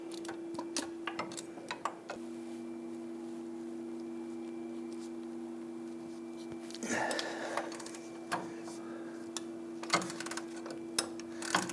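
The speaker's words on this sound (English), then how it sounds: "We're going to use a swivel head ratchet in our 19mm shallow socket to go ahead and gain access to this." A swivel head ratchet with a 19mm shallow socket clicks in rapid bursts while turning a rusty power steering rack bolt on a 2000-2006 Toyota Tundra, close and steady under a constant electrical hum.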